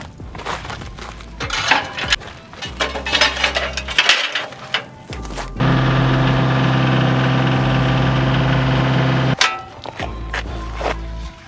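A small farm tractor engine idles steadily for several seconds, a loud, even drone that follows a stretch of clanking and shuffling handling noises, then cuts back to rattling and knocks.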